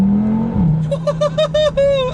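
A sports car pulls hard away from a standstill: a loud low engine note swells and dips, then climbs through a string of rapid rising upshift sweeps, close and alone without talk.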